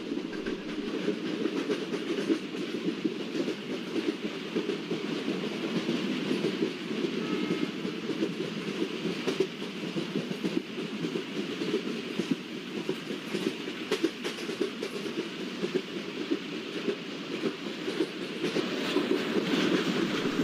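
A diesel freight train led by twin WDP4 locomotives in a train simulator game rumbles steadily along, its engine drone and rolling wheels holding a constant loud level throughout, with no voices.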